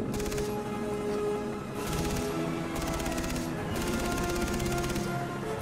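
Gunfire aimed at a helicopter in the video game Far Cry 3: rapid automatic bursts of about a second each, separated by short pauses, loud and close.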